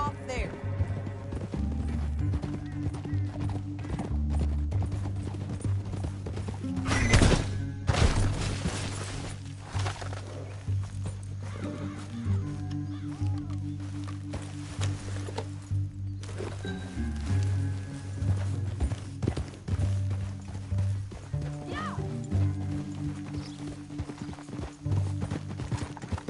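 Horses gallop in the Red Dead Redemption 2 video game, a continuous rhythmic clip-clop of hooves with occasional whinnies, gunshot-like cracks and game music, voices talking over it at times.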